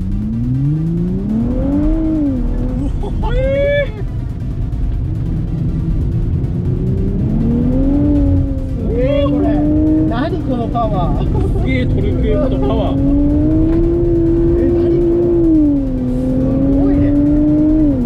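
A new Nissan Fairlady Z driven hard on a closed private road, its engine revving up and down in long rising and falling sweeps, loud and close, with people talking over it.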